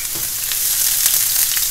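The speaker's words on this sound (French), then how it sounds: "Les oignons rissolent." Onions sizzle steadily in a hot pan, a loud close crackling fry with faint stirring scrapes throughout.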